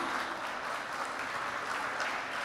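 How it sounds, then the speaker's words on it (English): An audience at a Breakfast with the Mayors event applauds, a steady, moderately quiet patter of many hands clapping without a break. "please give them a round of applause"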